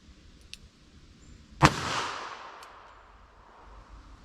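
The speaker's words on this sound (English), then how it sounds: "It felt like a very, very weak shot going off." Single gunshot from a .44 Special 240 grain cartridge that fired weakly: one sharp close report followed by a fading echo tail, with quiet room noise before and after and no talking.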